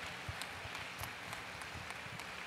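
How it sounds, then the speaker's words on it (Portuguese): A congregation applauds in church during a communion service, a faint, distant, steady patter of many hands clapping with no voices over it. "Você pode dar uma salva de palmas para aquele que vive para todo sempre."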